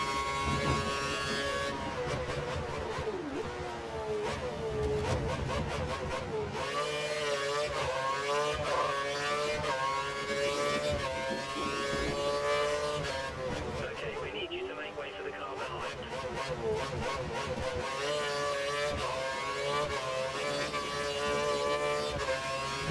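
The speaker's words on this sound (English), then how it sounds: "We got another car behind. That might be a Lotus." Formula 1 race car engines in F1 2013 at the Hungarian Grand Prix whine high and continuous, pitch rising and dipping with gear changes and acceleration, while a voice talks over them at intervals.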